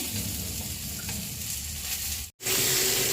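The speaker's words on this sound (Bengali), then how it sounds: "মাংসের আলুগুলো নুন হলুদ দিয়ে ভেজে নিচ্ছি হালকা করে" Cubed potatoes for a mutton curry fry lightly with salt and turmeric, a steady broadband sizzle filling the pan with a brief dropout before the frying hiss resumes, no voices.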